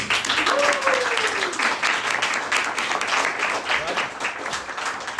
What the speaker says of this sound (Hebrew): זה הזמן למחוא כפיים.